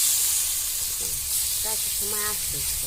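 Fish frying in oil in a village kitchen, a continuous loud sizzle with brief voices and small clatters over it.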